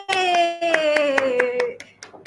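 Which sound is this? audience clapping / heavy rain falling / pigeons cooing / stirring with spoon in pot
audience clapping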